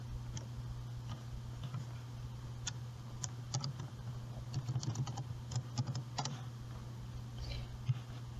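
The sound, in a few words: typing a search on a computer keyboard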